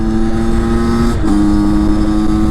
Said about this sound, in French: Full accélération.